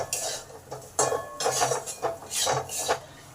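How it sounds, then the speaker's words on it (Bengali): Spices are being sautéed with potatoes in a pan for a vegetarian papaya and chana dal kofta curry. A spatula scrapes and knocks against the metal pan in repeated strokes, loud and close, and nobody speaks. "এগুলো ভালো করে এই আলুর সঙ্গে কষে নেব।"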